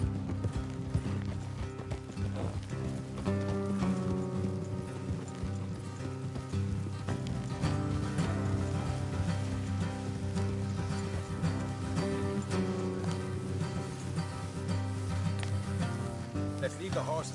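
Horse hooves clip-clopping while riding in Red Dead Redemption 2, a steady rhythmic beat under game music and ambient sound, with voices talking over it at times.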